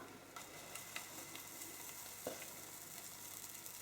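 Faint, steady sizzling of low-protein pancake batter in a frying pan, with a soft scrape or tap partway through; quiet and close, no voices.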